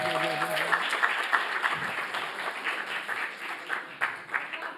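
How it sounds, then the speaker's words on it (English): Audience at an arts advocacy summit claps for a volunteer, a moderate, somewhat distant applause with an announcer's voice at the start and scattered voices over the clapping. "Can we get a big round of applause"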